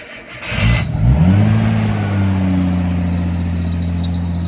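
A Nissan R33 Skyline drift car with a newly fitted ORC 559D SE twin-disc clutch cranks over and fires up, settling into a loud, steady idle with a high whine above the engine drone.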